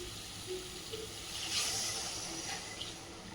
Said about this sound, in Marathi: आता आपण यामध्ये गरम पाणी टाकणार आहोत